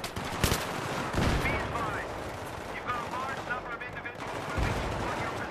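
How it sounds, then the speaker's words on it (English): Gunfire in Battlefield 3 comes as several sharp shots and bursts, a couple of loud close cracks among quieter rattling fire, with faint voices mixed in. "I know I'm not doing too great on the shooting here"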